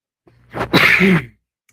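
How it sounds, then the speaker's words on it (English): One short, harsh cough close to the mic, a quick sharp burst that fades out within about a second. "Sorry for coughing in your ear"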